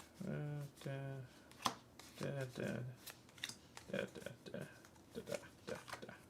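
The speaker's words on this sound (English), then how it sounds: "Shuffle the 1 and 2 Jade Canal cards together." Legacy of Yu canal cards being shuffled, several short riffling bursts of card shuffling, close and distinct, with someone talking in between.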